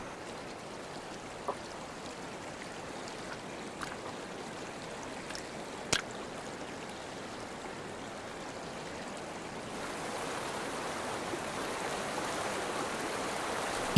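Fast-flowing water of the Indus River in wintry Ladakh rushing steadily as a broad, continuous wash, with a few faint clicks and the roar swelling slightly toward the end.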